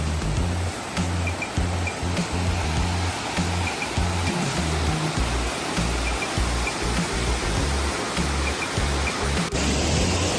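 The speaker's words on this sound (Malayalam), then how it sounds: "നമ്മുടെ മെയിൻ വെള്ളച്ചാട്ടത്തിൻ്റെ അടുത്ത് എത്തിയിരിക്കുകയാണ്" Loud, continuous roar of rushing water from nearby Urulikkund waterfall in Kannur district, Kerala, a dense steady wash with a low rumble beneath.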